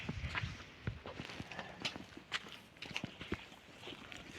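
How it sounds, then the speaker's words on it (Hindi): Small baby goats walk about on a farm, their light hoof steps tapping and scuffing in an irregular patter close by, with faint background noise. "क्या बड़े आराम से छोटे छोटे बच्चे चल रहे हैं बकरी के।"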